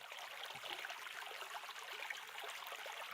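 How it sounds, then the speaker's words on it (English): Gentle water in the Ender Lilies video game, an underwater area, makes a soft, continuous rushing trickle like a small stream, steady and fairly quiet with no voices. "Love that gentle water noise."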